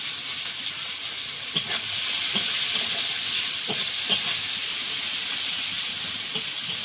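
Garlic and five-spice tossed into hot oil in a rural Sundarbans kitchen, giving a steady close sizzle and hiss throughout with a few faint stirring clicks and no talk.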